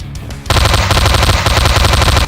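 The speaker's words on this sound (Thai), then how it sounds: "พอเป็นปืนกลก็ยิงมันอีกแบบนะ นี่ยิงไปเลย" Rapid, sustained machine gun fire in the video game Slendytubbies 3, loud and close, a dense stream of shots after a brief quieter moment at the start.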